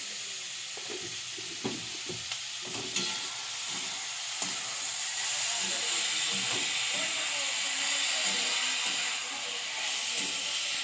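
Chicken frying in a pan for a momo filling, a loud, constant hiss of sizzling oil with scattered clicks and scrapes of stirring throughout.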